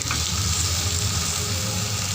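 Sliced pork sizzles on a Thai mookata grill pan at a birthday meal, a close, loud, unbroken hiss of frying fat that holds steady throughout, with no voices.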